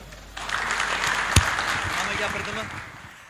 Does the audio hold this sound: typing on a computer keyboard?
no